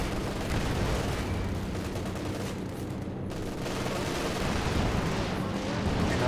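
A dense artillery barrage from a Super Fuse strike in Company of Heroes 2, with heavy booms and rattling blasts overlapping continuously, loud and close for several seconds.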